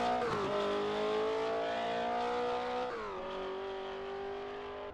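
A Porsche 906 race car's boxer six engine in the Assetto Corsa driving game, revving hard in a sustained, tonal howl that drops at a gear change and climbs again, loud and close.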